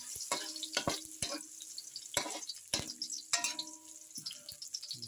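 Garlic and onion frying and sizzling in a pan for pancit canton, with a steady hiss broken by repeated sharp clinks and scrapes of a utensil stirring against the pan, close and moderately loud.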